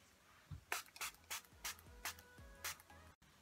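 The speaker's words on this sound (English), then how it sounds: "I'm putting in my setting mist by Kat Von D." Short, quiet spritzes of Kat Von D setting mist are pumped onto a face, about seven evenly spaced puffs in quick succession, each a brief soft hiss with light bottle clicks between.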